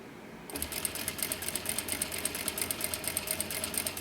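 A sewing machine stitches a mini box tote, starting after a brief quiet moment and then running in a fast, steady mechanical rhythm of close needle clatter.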